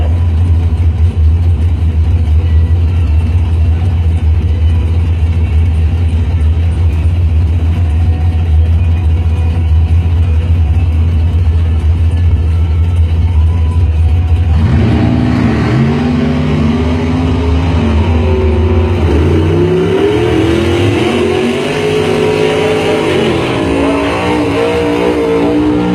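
A 1990 Spitzer dragster powered by a 540 Chevy engine idles loudly and roughly at a drag strip, then the engine note jumps into rising, revving surges as it races off.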